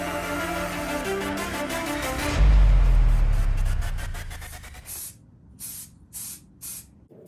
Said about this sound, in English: I'm going to spray with zinc weld through primer